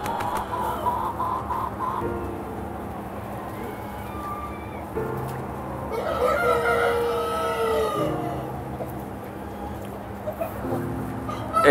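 Chickens and hens packed in a chicken shed cluck and squawk constantly, with louder agitated calls rising in the middle over a busy background din.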